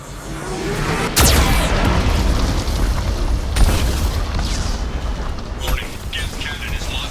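Geth cannon blasts in the video game Mass Effect 2: a loud booming impact over a heavy rumbling background, then a second softer boom, with no talk.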